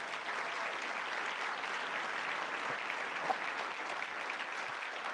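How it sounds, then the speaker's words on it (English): Steady, distant-sounding applause fills a conference hall as attendees of an Arizona–Mexico commission plenary clap for the hospitality team, continuous and even throughout. "So please join me a round of applause for them"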